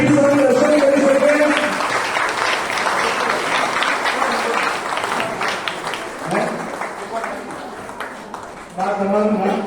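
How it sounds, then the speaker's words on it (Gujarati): Applause from an audience at a Gujarati devotional gathering honouring Lord Mahavir's mother, a sustained wash of clapping running through the whole stretch with crowd noise mixed in. "એકવાર એ લોકોને બધાને તાળીથી વધાવીએ."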